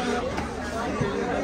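Dense crowd chatter fills a busy local market in Digha that also sells fish: many overlapping voices form a steady, close babble with no single speaker standing out.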